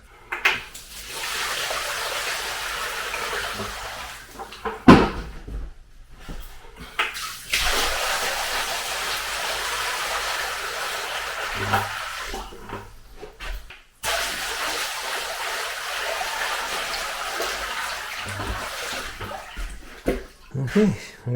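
Water gushes steadily into a shallow shower pan during a flood test, splashing and rushing in long bursts separated by brief pauses, close and loud.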